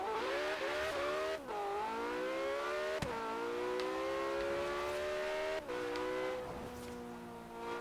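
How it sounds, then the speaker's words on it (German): A Pagani supercar in Forza Horizon 3 launches from a standstill at full throttle, its loud engine note climbing steadily with brief dips at a couple of gear changes, heard alone without talk. "Jetzt einfach nur aus dem Stand und Vollgas losfahren."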